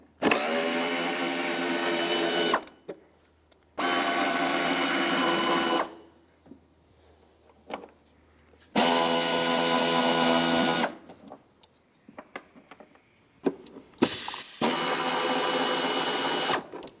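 An air ratchet spins out 10mm bolts on a cover of a 1997-2001 Lexus ES 300 during timing belt work, in several loud, close whirring bursts separated by quieter pauses with small clicks and tool handling.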